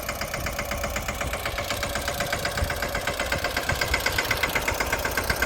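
A tractor engine runs at a village farm, idling with a steady, close chug of regular rhythmic pulses that grow slightly more pronounced toward the end.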